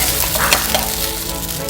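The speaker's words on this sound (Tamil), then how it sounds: "நம்ம கலக்கி வச்சுருக்கிற மாவை இதில் ஊற்றிடுறோம்." Dosa batter hits a hot griddle while making Madurai-style kari dosai, and a loud, steady broadband sizzle fills the whole short moment close up, with no talk.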